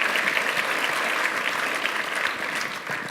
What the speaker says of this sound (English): So now we should applaud.